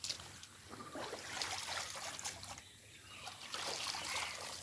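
Water trickling and splashing while fish feed is washed for young boal fish, a faint, continuous watery patter with small irregular splashes close by.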